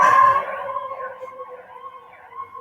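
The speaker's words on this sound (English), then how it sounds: "Turn that fucking electronic siren off." A steady electronic siren tone wavering near the listener after a brief louder burst, continuing alone at moderate volume.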